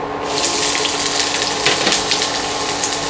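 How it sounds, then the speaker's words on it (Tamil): Onions dropped into hot coconut oil give a loud, steady hiss with a rushing, watery sizzle that starts abruptly and holds close and constant for a few seconds, with no talking. "எண்ணெய் சூடு வருது நான் வெங்காயத்தை போட்டுக்கிறேன்"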